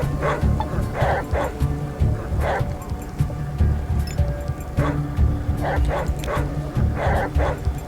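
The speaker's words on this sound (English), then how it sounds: "The dog is coming." A dog in the post-apocalyptic role-playing game ATOM RPG Trudograd barks and yips in repeated short bursts, fairly close, over a low rumbling background with brief traces of a voice.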